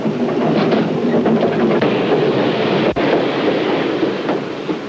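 A passenger train rolls through open countryside past farms, a loud steady rumble of wheels and carriages with rhythmic clacks and one sharp click near the middle.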